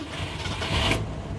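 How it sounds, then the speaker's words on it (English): A 1965 Ford Mustang engine with a wiring fault cranks and turns over, a brief steady mechanical churn that swells near the end, close and loud with no talk. "Start the car up."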